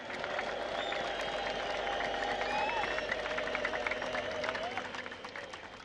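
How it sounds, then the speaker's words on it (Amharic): A huge open-air crowd at a religious gathering in Meskel Square, Addis Ababa, applauds and cheers with high trilling ululation woven through a continuous, distant-sounding roar. "እስቲ እልልታ፣ ጭብጨባ፣ ሆታ።"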